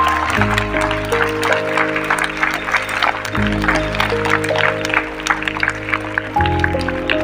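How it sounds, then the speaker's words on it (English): Applause for teachers at a school morning assembly, a steady round of many hands clapping, fairly close, with a sustained tone running underneath. "let us give a round of applause for all the teachers for conducting today's morning assembly"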